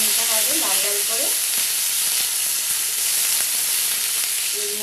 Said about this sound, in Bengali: এবার এখানে দিয়ে দেবো কাঁচা লঙ্কা, এটাকে একটু ভালো করে ভেজে নিতে হবে লাল লাল করে।